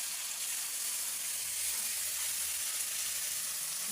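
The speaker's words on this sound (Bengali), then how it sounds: "মশলাটা ভালো করে কষাবো।" Spices sauté with ginger garlic paste and fried onion in a pan, giving a dense, even sizzle and hiss that holds steady throughout, close and unbroken, with no talking.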